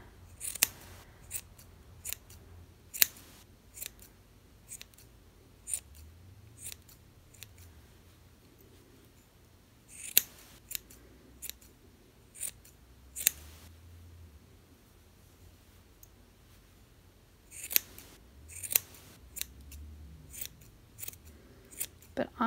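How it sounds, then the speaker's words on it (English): Scissors snip around a yarn pom pom to trim it into a circle: quiet, close, sharp cuts in irregular clusters, scattered over a soft hiss with faint low rustling between them. "Now take your scissors and trim a nice circle."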